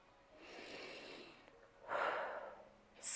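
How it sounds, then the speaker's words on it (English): Two slow, close breaths, each a soft airy swell lasting about a second with a quiet pause between, are taken by a speaker during a calm confidence exercise, with no speech. "breathe."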